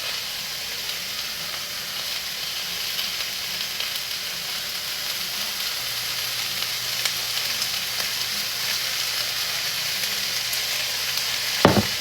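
Pork stir-fry with vegetables sizzling in an olive-oil pan, giving a dense, continuous close hiss with faint stirring clatter, a low hum entering midway and a sharp utensil knock near the end, with no talking.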